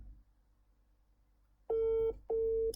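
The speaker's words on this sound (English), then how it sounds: "I'm ringing my operation manager" Quiet hiss, then two long, loud steady electronic phone tones separated by a short gap, like a ringback signal.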